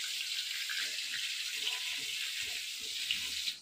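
Water streams steadily into a pot of katla fish curry, a continuous bright hiss and splash heard close up, with faint low kitchen clatter underneath.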